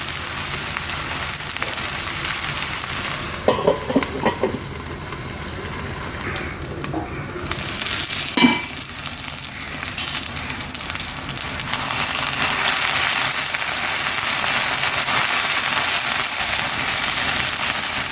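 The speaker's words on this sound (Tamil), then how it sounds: "இது நல்லா வதங்கட்டும் மூடி வச்சுருவேன்" Sliced okra (vendakkai) sautéing in a pan for a Tamil okra and soya dish, giving a steady, close sizzling hiss with a few soft stirring scrapes and no speech.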